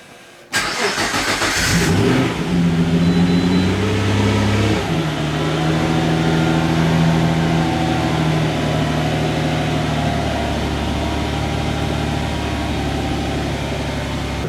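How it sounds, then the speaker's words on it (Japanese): A Nissan R35 GT-R V6 engine fitted in a Toyota Hiace van starts and settles into a steady idle, a loud, deep, vibrating drone that runs on continuously with no talking. "エンジンの振動がですね V 型ならではのこうビリビリくる感じで気持ちいいです"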